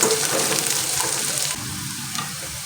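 Green chillies, peanuts and curry leaves fry in hot oil in a pan, giving a close, loud, continuous sizzle with stirring, which drops slightly in level partway through.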